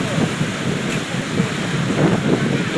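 Heavy rain and rough surf buffeting a boat in the Sundarbans during foul weather, with a steady wind-blown roar and crashing waves filling the whole stretch, loud and continuous.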